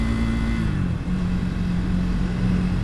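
A Triumph Speed 400 single-cylinder motorcycle engine pulls in third gear, a loud, steady close-up drone with a throbbing low-end buzz and a slight pitch shift midway, heard alone without talk.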